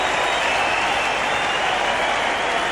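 Cricket crowd applauding at the Sydney Cricket Ground during a 1989-90 Australia versus Pakistan match, a dense, steady wash of clapping from a large stand, continuous and loud throughout with no voices standing out.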